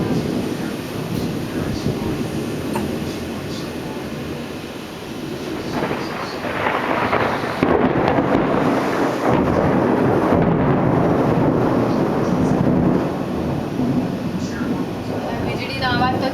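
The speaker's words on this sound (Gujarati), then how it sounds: "વીજળીના અવાજ તો જબરજસ્ત." Thunder rumbles and rolls during a night thunderstorm at about 8:30 pm, deep sustained booms building in loudness and sounding fairly close, with voices talking in the background.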